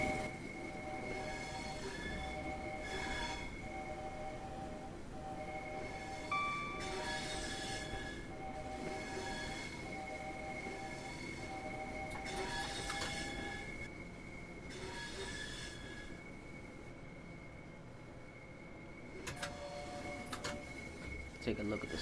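A simulated train runs along the Chatham main line toward London Victoria in Train Sim World 2, with a steady rolling rumble, sustained whining and squealing tones and occasional clunks, under quiet talk.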